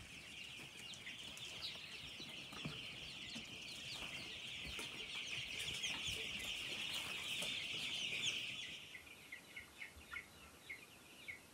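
Barred Plymouth Rock chickens cluck and murmur steadily at close range in a farm setting, a dense layer of hen calls that thins into a few sparse clucks at the end.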